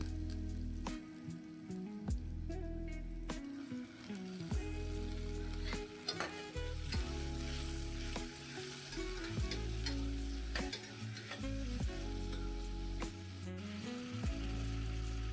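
Chopped medium tomatoes sizzling in hot oil tempering for a bottle gourd gojju, a steady crackling fry with intermittent scraping clinks of a spoon stirring the pan, close and continuous without speech.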